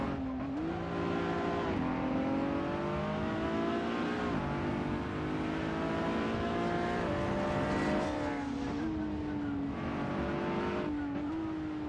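Race car engines roar steadily in a Russian racing video game, with rising and falling pitch as the cars accelerate and shift gears. Several cars are close together, a loud continuous mechanical drone with no talking.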